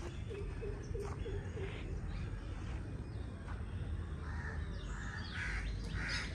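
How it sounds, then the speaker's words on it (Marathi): Birds call in a forest: a quick run of crow caws early on, then scattered chirps and tweets at a moderate distance over a steady outdoor background hum. "पक्ष्यांचा आवाज काय भारी येतो आहे का"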